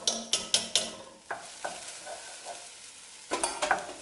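Drained red lentils being stirred into frying onion and spices in a pan for dhal, with a run of sharp rhythmic spoon scrapes over a low sizzle, a quieter stretch, then more clattering stirs, close up and without voices.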